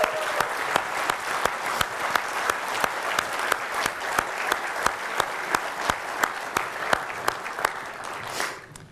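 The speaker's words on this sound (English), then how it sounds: "let us give you a round of applause" Applause for a city employee at a State of the City event in Edmonds, with a crowd clapping steadily and a few loud, evenly spaced claps standing out close by before the sound tapers off.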